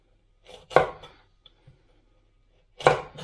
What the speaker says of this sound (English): the easiest way to do it with a carrot is if you just take one side to make a flat bottom, lay it on the flat bottom, and then make planks